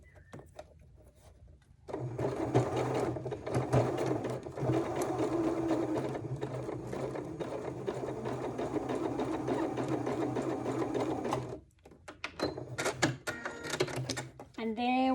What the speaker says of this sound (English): And there we go, our first row of basting.